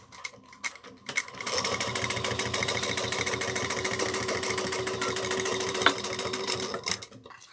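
A sewing machine runs a quarter-inch seam on a bucket bag lining near its zipper, a steady fast rattle lasting about six seconds after a few short starts, with no voices heard.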